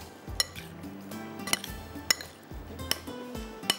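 A spoon clinks and scrapes against a bowl while marinated vegetables, gobi and matar, are mixed, giving sharp metallic taps at irregular intervals over soft stirring, close and without talk.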